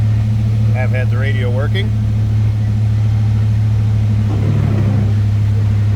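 A 1986 Ford Mustang GT convertible's engine runs at a steady, loud, low idle throughout after a cold start, with someone talking over the rumble for stretches.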